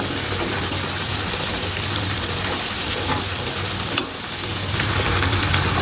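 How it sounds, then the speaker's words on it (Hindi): Half-cooked chicken broast pieces frying in hot oil over a low flame, giving a steady, dense, close sizzle throughout with faint crackles and one brief sharp click near the end. "काफ़ी अच्छे से यहाँ पे फ्राई हो रहे हैं ब्रोस्ट हमारे।"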